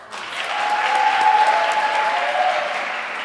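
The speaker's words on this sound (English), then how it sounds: "A round of applause" A round of applause from an audience at a learner-led gender-based violence prevention dialogue, swelling quickly and holding as a dense, steady ovation throughout.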